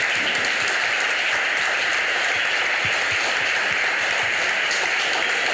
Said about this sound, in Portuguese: Queria pedir realmente que todos pudessem dar uma salva de palmas para essa equipe.